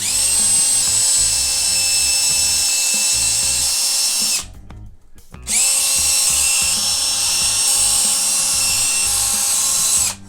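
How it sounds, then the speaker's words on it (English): A high-pitched power drill removing screws whirs steadily for several seconds, stops briefly, then whines again at full speed, loud and close with no voices. "And that step takes forever, even with the drill."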